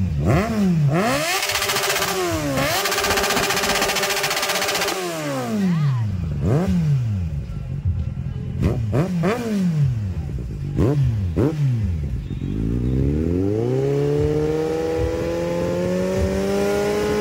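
A motorcycle engine revs repeatedly on a special ride, with rising and falling pitch sweeps in bursts, then a long steady climb in revs near the end, loud and close throughout.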